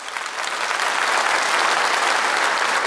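A stand-up comedy audience at Montreux Comedy breaks into applause that swells quickly and holds as a dense, steady wash of clapping.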